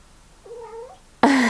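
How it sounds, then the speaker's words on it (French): A domestic cat meows indoors: one quiet drawn-out meow, followed by a sudden louder, harsher yowl that ends the clip. "Je sais pas si vous entendez mon chat miauler."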